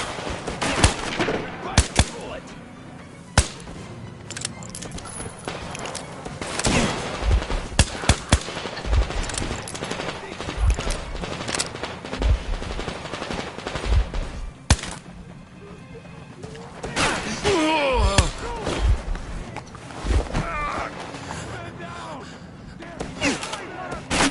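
Guards opening fire in Metro Exodus: repeated sharp gunshots and automatic bursts crack irregularly throughout, loud and close, with birds chirping in the background at times.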